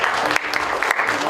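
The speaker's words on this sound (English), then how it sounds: "Big round of applause for Steve" A comedy-show audience in a small art-house theater in Keyser, West Virginia, claps in a dense, steady burst of applause, loud and close throughout with brief dips.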